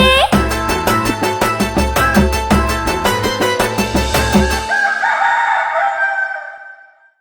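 A rooster crows loudly and close, one long drawn-out call with a pulsing, stuttering texture, trailing off into a fading echo.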